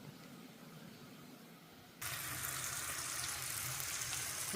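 Capsicum sautéing in a pan for tacos: a quiet, muffled start, then a sudden jump to a loud, even, broadband sizzle that holds steady to the end, no talking.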